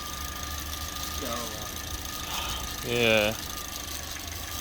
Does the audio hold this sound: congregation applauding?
no